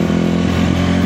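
A dirt bike engine revs loud and close in a steady buzzing drone with a slight lift in pitch, heard alone.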